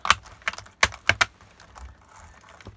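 Small plastic tabs on a replacement power socket in a Toshiba Satellite L735 laptop snap into place, giving a handful of sharp, close clicks in quick pairs followed by quieter handling, with no talking.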